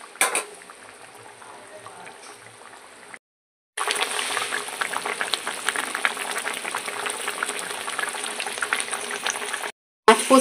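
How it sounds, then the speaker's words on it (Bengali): A fish curry gravy bubbles in a pan, making a loud, steady, close hissing boil that begins after a short quieter stretch and runs on without talking. "ঝোল ফুটে উঠেছে"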